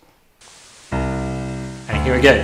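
Steady white noise, added to an audio file by digital data augmentation, hisses across the whole clip beneath a sustained humming tone, with someone speaking briefly near the end.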